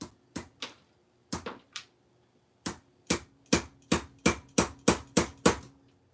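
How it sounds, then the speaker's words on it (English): A wrench used as a hammer strikes a metal part held in a mini vise, sharp ringing blows in irregular clusters at first, then a fast steady run of about ten hits, close and loud. "I don't have a hammer, so I'm using this wrench."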